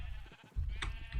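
A sheep in the Minecraft video game bleats in a short, loud, nasal burst, close and alone, repeating once after a brief dip.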